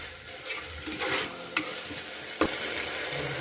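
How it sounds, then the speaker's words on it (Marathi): Rice grains are stirred in sizzling oil, a steady frying crackle broken by a couple of sharp scrapes of a utensil against the pan. "एक ते दोन मिनिट आपल्याला हे तेल परतून घ्यायचं आहे तांदूळ"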